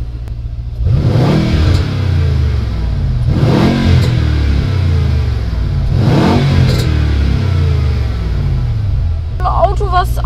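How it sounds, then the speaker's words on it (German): A Mercedes-AMG E63 S Edition 1 with a Capristo exhaust revs hard three times at close range, each blip rising to a loud roar and falling back to a rumbling idle, with brief talk near the end. "der Wagen hat eine Capristo Abgasanlage"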